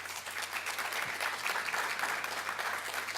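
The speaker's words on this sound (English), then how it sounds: "So let's give yourselves a big round of applause" Steady applause from an audience at a policy roundtable on antipoverty and juvenile justice reform, sustained and even throughout at moderate, slightly distant loudness.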